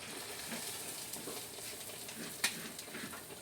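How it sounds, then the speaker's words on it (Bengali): Dahi bada lentil fritters frying in hot oil, with a soft steady sizzle and one sharper crackle, fairly faint and continuous. "এবার বড়াটা তেলে ছাড়ছি।"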